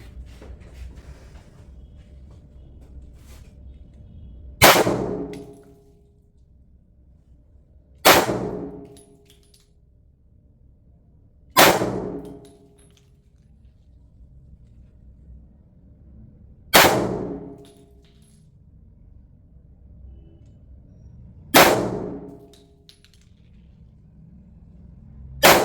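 Gretta Protector .30 Tokarev pistol (NP bore) fired outdoors, five sharp separate shots spaced several seconds apart, each a loud crack with a short decaying echo, with quiet background between.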